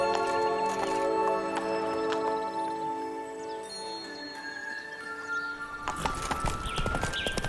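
Horse hooves clip-clop in a gallop through The Witcher 3 video game, with rhythmic thuds under a steady music and ambience bed and a sharper burst of hoofbeats near the end.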